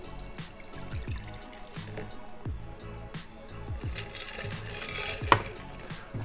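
Gin punch pours steadily into a glass over ice with a grapefruit wedge, with gurgling trickles and light clinks, ending in a sharp tap near the end.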